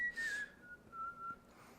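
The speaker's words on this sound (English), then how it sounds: "Nice whistle, dude." A person whistles a short phrase of a British song, a faint, thin, wavering tone that slides downward and then fades out.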